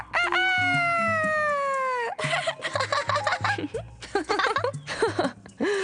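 A voice imitates a rooster crowing in a children's animal cartoon: one long drawn-out cock-a-doodle-doo, followed by giggling, clucking-like vocal bursts and laughter.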